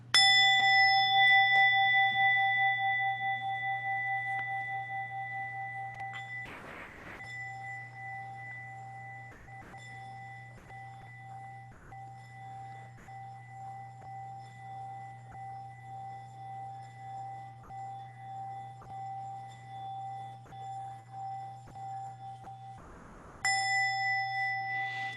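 A meditation bell is struck once at the start of an online session. It rings out loud and clear, then its tone rings on and slowly fades over many seconds, with a second strike near the end.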